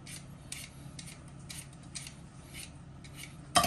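A knife cuts peeled vegetables into medium cubes on a board, giving a close series of evenly spaced crisp chopping strokes, with a louder clatter at the very end.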